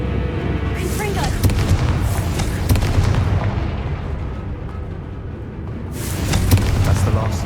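Confringo blasting spell explosions in Hogwarts Legacy, deep rumbling booms with crackling bursts rising and fading over several seconds, mixed with battle noise.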